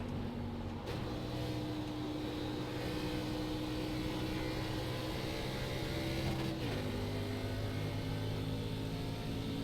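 Simulated NASCAR stock car engine at Gateway Motorsports Park in iRacing, a loud steady drone held near constant with a pitch drop around the six-second mark, accompanied by other cars' engines and no talk.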